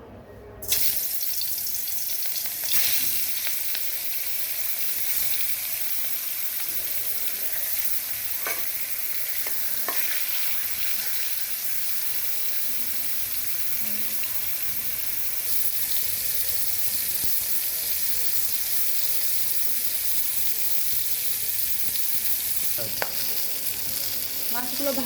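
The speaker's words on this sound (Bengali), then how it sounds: "এখন আমরা মাছগুলো ভেজে নিব।" Boal fish frying in hot oil in a karahi, a steady, dense sizzle running unbroken for the whole stretch with occasional clinks of stirring, close and fairly loud, no talk.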